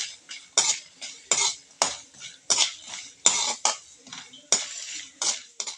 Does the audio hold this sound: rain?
no